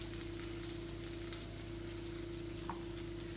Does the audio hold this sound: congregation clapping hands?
no